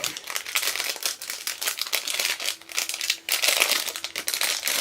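Crinkly makeup packaging being opened, with continuous close plastic crumpling and crackling and a few sharper rustles, heard alone with no talking.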